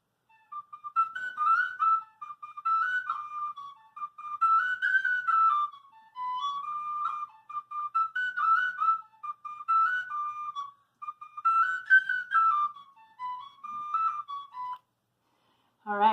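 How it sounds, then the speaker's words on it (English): A bright tin whistle plays a quick, lilting melody alone, phrases rising and falling with brief breaths between them, ending abruptly. "I want you to hear someone playing it on tin whistle"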